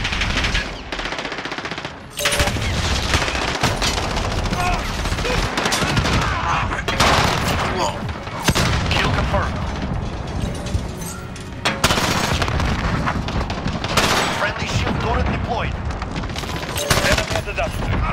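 Rapid automatic gunfire in Call of Duty: Modern Warfare on the Shipment map, dense loud bursts and shots nearly continuous throughout, with brief pauses and in-game voices mixed in.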